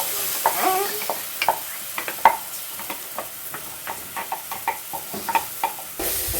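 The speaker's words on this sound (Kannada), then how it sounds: "ರುಬ್ಬಿರೋ ಅಂಥ ಮಸಾಲೆ ಹಾಕ್ಕೊಳ್ತಾ ಇದೀವಿ" Ground masala frying in oil while being stirred, giving a soft continuous sizzle broken by repeated scraping clicks of a utensil against the pan, close and fairly quiet.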